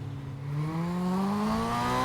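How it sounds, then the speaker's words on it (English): A sports motorcycle engine climbs steadily in pitch toward its rev limiter, growing louder from a quieter start and holding a sustained, close drone without talk. "But I hit the limiter again."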